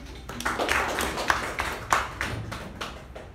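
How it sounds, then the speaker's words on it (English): Scattered, uneven clapping greets a speaker at an online meeting, a small group of hand claps, fairly close and moderately loud, with irregular gaps between strikes. "Let's give a big round of applause for Sharanye."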